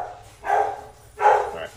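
A puppy barks twice at someone at the door indoors, two sharp, fairly close yaps about a second apart with quiet between them.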